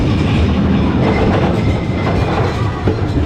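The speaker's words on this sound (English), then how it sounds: "I've never ridden a roller coaster with a lift hill sound like Giant Dipper" Steady rumbling clatter with rapid mechanical clacking from the Giant Dipper roller coaster lift hill at Belmont Park, San Diego, loud and close, continuous throughout with no voices.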